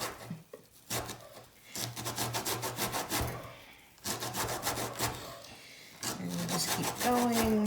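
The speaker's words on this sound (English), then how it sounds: "when the zest is coming off, I'm getting a bit slippery" An orange being zested by hand for an orange cornmeal cake, giving repeated rough rasping strokes in bursts with short pauses between them, close and fairly loud, with a few faint clatters near the end.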